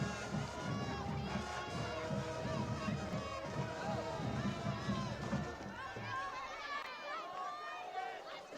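A high school football crowd roars in a dense, continuous wash of chatter and shouting that thins out toward the end, with voices mixed through the noise.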